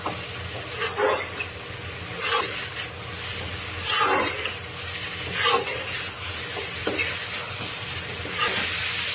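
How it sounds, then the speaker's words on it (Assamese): Cauliflower and potatoes fry in a pan with a steady sizzle, while a utensil scrapes and stirs them in several distinct bursts spread across the clip. "ফুলকবি আলুখিনি দিলোঁ, ভালদৰে ভাজি ল'লোঁ"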